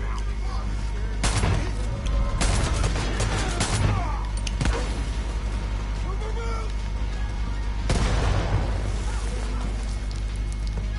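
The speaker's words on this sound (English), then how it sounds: "That was a pretty big fucking explosion." Heavy blasts and crackling bursts from a big explosion in the video game Far Cry 5, with several loud booming hits scattered across a continuous noisy battle backdrop.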